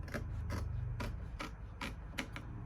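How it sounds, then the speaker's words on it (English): Close, quiet snipping of scissors trimming fabric on a draped bodice, about eight short crisp cuts at an uneven pace over a low background hum. "So feel free to snip if you want, just snip like that as you trim."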